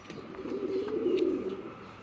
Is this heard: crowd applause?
no